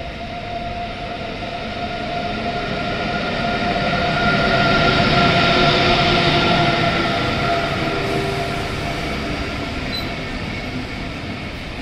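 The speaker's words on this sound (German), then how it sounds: "Gleis 2 Einfahrt IC 218 nach München Hauptbahnhof über München Ost." A EuroCity train hauled by a DB class 101 electric locomotive rolls into Rosenheim station, a broad rumbling rush that swells to a peak mid-way then fades, with faint tonal whines above the rail noise.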